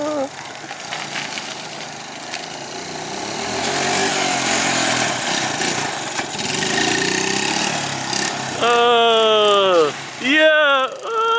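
A rare Honda TRX 70 ATV runs in second gear with a small engine's steady buzzing drone that rises and falls. Near the end it revs sharply in a few whining surges, and voices are heard alongside it.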